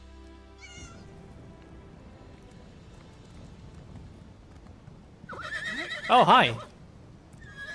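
Horse in the video game Elder Scrolls Online, set in snowy Skyrim, neighing loudly and close after a stretch of quiet game ambience, with a brief spoken greeting early on.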